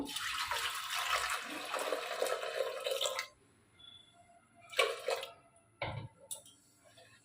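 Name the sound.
water poured into pot with papaya and lentils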